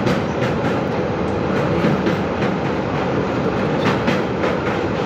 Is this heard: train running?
yes